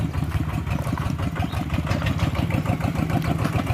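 A vehicle engine idles just before being put into first gear, a steady, close, rhythmic low putter with no voices over it.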